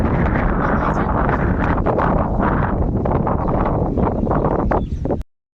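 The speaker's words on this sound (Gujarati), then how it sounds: "અત્યારે ફૂલ અંધારું થઈ ગયું ને ઠંડો પવન પણ આવે છે." Cold evening wind gusts buffet the microphone in a loud, continuous rumbling roar before cutting off abruptly.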